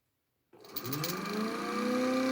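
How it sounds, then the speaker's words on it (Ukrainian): A homemade magnetic generator starts up after a moment of silence, its whine climbing in pitch as it spins up, then settling into a steady tonal hum up close. "Я запускаю свій генератор."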